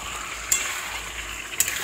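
Chicken curry meat fries and is stirred in a pan, giving a soft, steady sizzle with two sharp clinks of a spoon against the pan, close by and without any talking.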